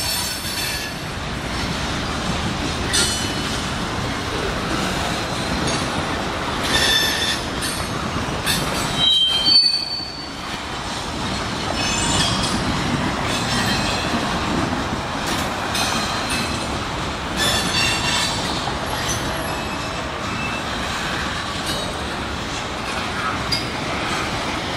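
Northbound Union Pacific freight train rolling past at speed, loud continuous rumble with sustained metallic wheel squeal throughout and a short dip in the noise around the middle.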